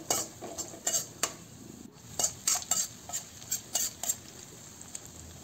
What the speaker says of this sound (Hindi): मिर्च और लहसुन और अदरक का पेस्ट बनाया था वो डाल देंगे इसके अंदर और इसको भून लेंगे घी के अंदर